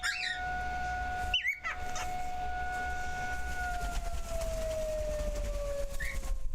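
An outdoor siren wails continuously from a distance, its pitch slowly sliding downward, while a dog barks briefly near the start.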